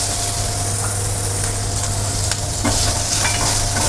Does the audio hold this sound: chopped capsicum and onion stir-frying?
yes